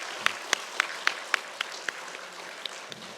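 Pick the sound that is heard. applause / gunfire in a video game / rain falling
applause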